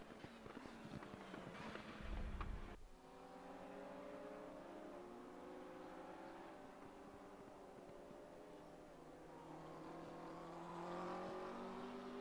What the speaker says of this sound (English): Gorgeous sounding 650S there